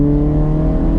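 A car engine hums loudly and steadily from inside the cabin during a half-lap track drive, a sustained droning tone holding a constant pitch.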